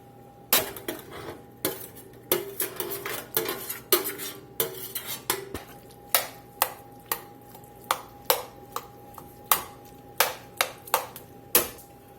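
Caramelized roasted tomatoes moved into a soup pot, heard as a long run of sharp metallic clanks and scrapes of a utensil against cookware in a quick irregular rhythm, close and without talk.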